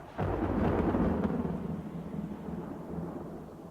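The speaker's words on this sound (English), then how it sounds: "Rip heard long rolling peals like distant thunder" Distant rolling thunder in the mountains, a long low rumbling peal that swells and slowly fades, heard alone without talk.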